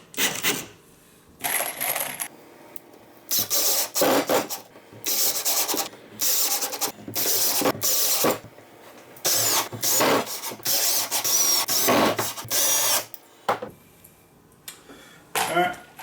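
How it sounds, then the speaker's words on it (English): A power driver sets screws into a wooden rolling bench seat in a series of short whirring bursts separated by quiet gaps, heard close and loud with no talking over it. "So we're going to screw this in right here."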